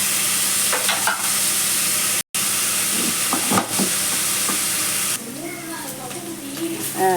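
Onions sauté in oil for a pea pulao with a continuous close sizzle and occasional stirring scrapes. The frying briefly drops out, then carries on slightly quieter.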